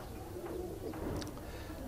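Pigeons with fully grown flight feathers, ready to fly, give soft low cooing that runs steadily through the clip alongside a few faint chirps, close by and fairly quiet.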